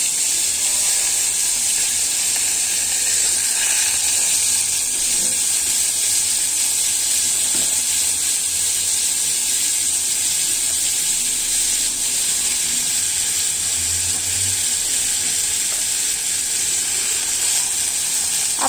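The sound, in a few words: carrots and stem greens frying with cumin in pan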